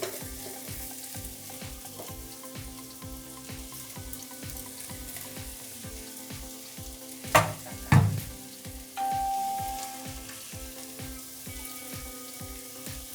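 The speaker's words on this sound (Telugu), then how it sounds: "ఇప్పుడు ఇందులో చింతపండు రసం వేసుకుందాం." Tamarind juice poured into okra gravy simmering in a pan for Telangana-style bendakaya pulusu, with steady sizzling and stirring, a brief louder splash of liquid midway, then continued bubbling with no talk.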